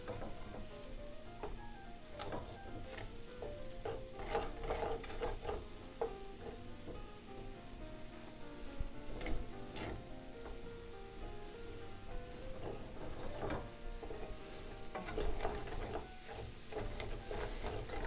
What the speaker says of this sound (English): we're going to turn it to a medium flame, and we're going to slowly cook them